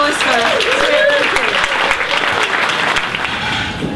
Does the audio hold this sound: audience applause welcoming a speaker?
yes